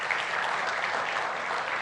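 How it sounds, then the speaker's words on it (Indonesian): Audience applause at an event where a painting is about to be auctioned, a dense, steady wash of clapping filling the whole short stretch at even loudness. "Boleh tepuk tangan hadirin sekalian"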